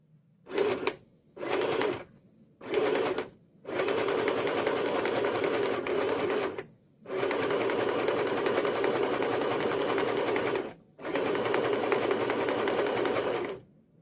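A sewing machine stitches through paper with black thread, running loud and close. It starts with three short bursts, then settles into longer continuous runs separated by brief pauses.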